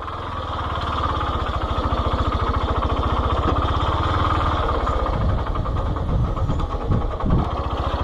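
A motorcycle engine rides through a muddy village path in Ramasseri, Palakkad, Kerala, throbbing steadily and close for about eight seconds with no talking.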